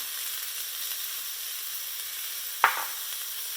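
Steamed green beans with Himalayan pink salt go into a hot pan for a stir-fry, a faint steady sizzle broken by one sharp clatter of ingredients landing.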